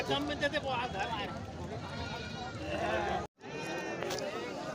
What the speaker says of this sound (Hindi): यहाँ पे भी भेड़ा है, पूरा लुकवा भेड़ा है साथियों